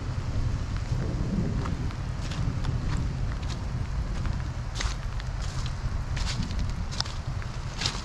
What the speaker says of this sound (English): Hear a little thunder.